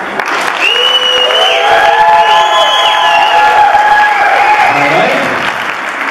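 A Christmas ball audience breaks into applause and cheering to pick a best-dressed winner, loud dense clapping with whoops and shouts that swell and then fade.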